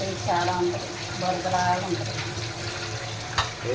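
Tap water runs steadily while vegetables fresh from the market are rinsed of soil at home, a soft continuous splashing with brief clinks, and voices talking over it.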